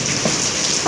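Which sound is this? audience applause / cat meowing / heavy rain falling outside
heavy rain falling outside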